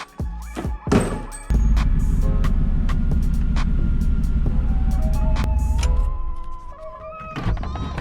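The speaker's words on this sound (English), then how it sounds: "Move the truck out a little bit so the lighting is hopefully a little better" An OBS-era Chevy truck starts up with a clunk, then its engine idles in a loud, steady low rumble close by before the sound eases as the truck is moved.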